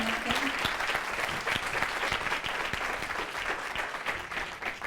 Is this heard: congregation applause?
yes